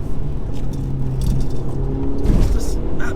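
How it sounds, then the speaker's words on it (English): An Audi TT 225 drives along with a loud engine rumble and a rising rev near the end, heard from inside the cabin while someone speaks over it. "It's just absolutely mental how this car goes."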